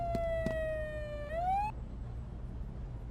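An ambulance siren in the emergency-services game Flashing Lights wails loudly with a rising, shifting pitch and then cuts off abruptly, leaving a low background rumble.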